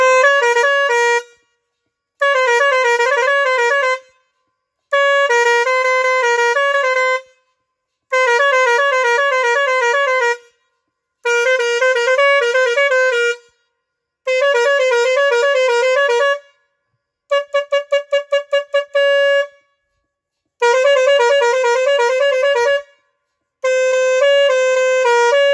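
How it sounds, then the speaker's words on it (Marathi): A three-pipe Bajrang air horn, fed from a tank pumped full of air, blasts loudly and up close in nine separate bursts of about two seconds each with short gaps between them, one burst trilling rapidly. "3 पाईपची बजरंगची हॉर्न टेस्टिंग करत आहे"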